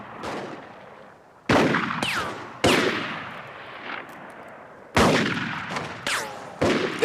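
Gunfire crackles in an attack scene from a Bonanza western TV episode: about seven sharp, loud shots with echoing tails, fired singly at irregular intervals, with no talk.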